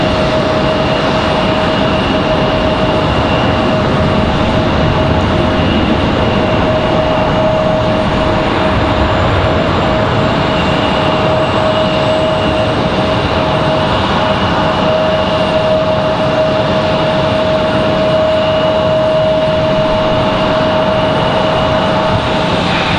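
Jet airliner from Miami landing at Raleigh-Durham International Airport, a steady, loud broadband engine roar with a sustained whine holding constant throughout, no voices.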